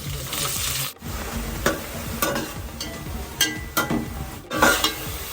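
Ginger, garlic and curry leaves fry in hot sesame oil for a Kerala-style lemon pickle, a close, dense crackling sizzle broken by repeated spoon scrapes and clanks against the pan.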